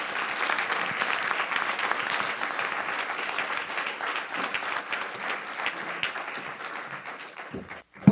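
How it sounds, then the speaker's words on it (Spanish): A lecture audience applauds after a conference talk, sustained steady clapping from a full room that stays loud throughout before cutting off abruptly at the end. "Le damos otro aplauso como agradecimiento a esta ponencia"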